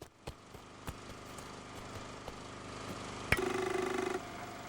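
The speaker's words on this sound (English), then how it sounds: "That's a fuel generator tier 2, that's the drill tier 2." A tier 2 fuel generator and tier 2 drill running in Blossom: The Seed Of Life, a faint steady mechanical hum with regular soft clicks, swelling into a louder buzzing whir near the end.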